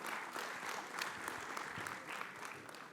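An audience at an award ceremony for achievers gives a round of applause, steady dense clapping heard from a distance at a fairly low level throughout.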